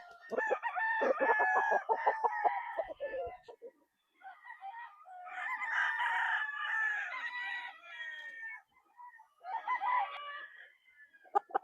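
Boston Roundhead Cross gamefowl roosters crow at a game farm, several long raspy crows in succession, one after another at moderate distance with brief gaps of quiet between them.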